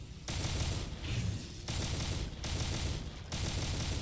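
Rapid gunfire from demons in Doom with the Project Brutality mod, dense rattling volleys in several long bursts separated by short pauses, loud and continuous.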